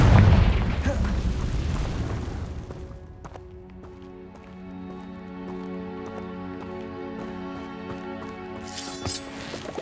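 A Confringo blasting spell in Hogwarts Legacy lands with a heavy, loud booming explosion at the start that rumbles and fades over a few seconds, leaving a soft sustained musical score.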